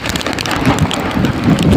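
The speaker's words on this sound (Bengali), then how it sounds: "অত্যন্ত ঝড়ো হাওয়া" Strong gusting wind from Cyclone Remal roars and buffets the microphone continuously, loud and close, with no voices.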